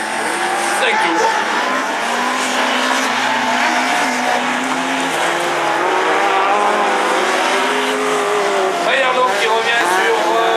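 Rallycross race cars slide on the Dreux track during a 2014 French championship semi-final, including a front-wheel-drive car, with loud continuous engine roar and tire noise close by while a commentator talks over it.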